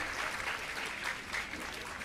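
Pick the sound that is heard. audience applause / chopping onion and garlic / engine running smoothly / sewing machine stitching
audience applause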